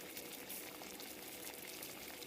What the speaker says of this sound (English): That's 2 cups of cold water boiling in less than 6 minutes from alcohol.